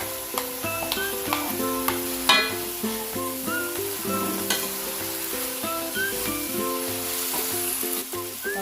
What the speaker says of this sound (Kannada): ಒಂದು 5 ನಿಮಿಷ ಚೆನ್ನಾಗಿ ಫ್ರೈ ಆಗಲಿ ಮಸಾಲನ್ನು ಕೂಡ